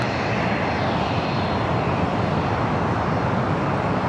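An airliner landing on runway 25 Left at LAX gives a steady, loud, broadband engine roar that holds evenly throughout without a break.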